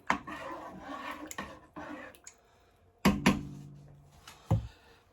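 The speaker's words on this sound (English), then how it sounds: "We'll stir it in a little." Utensil scraping and knocking in a pot of goulash being stirred, a few soft rubbing scrapes followed by louder clanks against the metal, close by and quiet.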